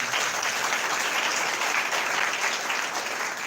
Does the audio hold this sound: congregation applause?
yes